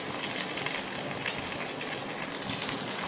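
Cheese, corn and potato cutlets fry in medium-hot oil, a dense continuous bubbling sizzle that stays even and close for the whole stretch, with no voices.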